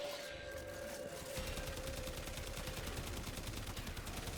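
Rapid automatic fire from an AX-52 rifle in Warframe, a fast, even stream of shots that starts after a brief pause and continues steadily, fairly quiet and with no voices.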